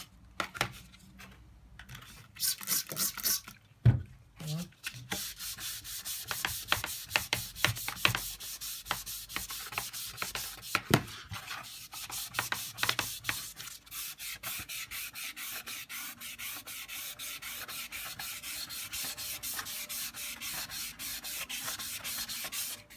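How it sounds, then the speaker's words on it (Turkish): Steady, rhythmic hand sanding rasps back and forth over a car mirror cover for the whole stretch, close up, with a few brief knocks near the start. "Evet, zımparaştırmaya devam ediyoruz."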